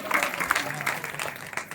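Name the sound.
applause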